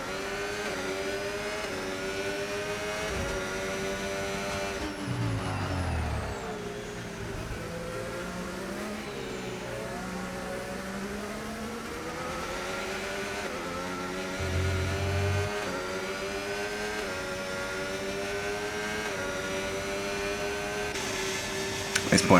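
F1 race cars from the F1 25 video game run the Chinese Grand Prix circuit in a league race, a steady high-pitched engine whine with shifting revs and downshifts, heard throughout under commentary.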